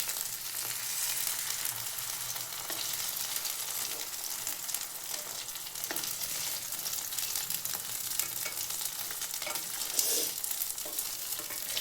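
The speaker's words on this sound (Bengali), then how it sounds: "এই যে কুমড়ো ফুলে বড়া করছি" Pumpkin flower fritters fry in hot oil, a continuous close crackling sizzle with small pops and occasional stirring sounds and no talking.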